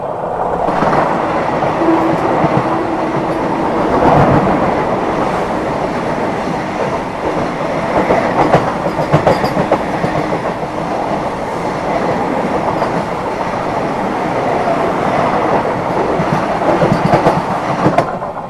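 Kaifiyaat Express passing the Vande Bharat Express on an Indian railway line, a loud, steady close roar of rushing wheels and carriages with rhythmic clickety-clack continuing throughout.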